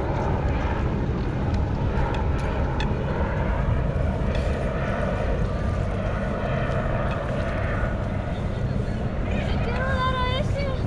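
A steady helicopter engine drone hangs in the background through outdoor park ambience, with faint bird chirps near the end.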